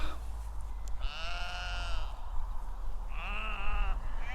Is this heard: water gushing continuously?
no